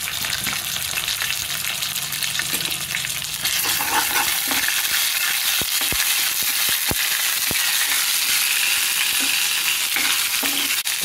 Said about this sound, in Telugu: ఈ తిరగమాతలోనే కొద్దిగా అల్లం వెల్లుల్లి పేస్ట్ కూడా వేసేసుకోవాలి